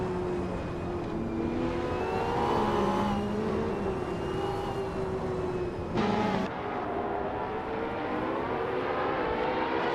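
Race cars launching off the start line in a racing video game, engines revving with rising pitch sweeps and a sharp shift mid-way, loud and continuous with several cars overlapping.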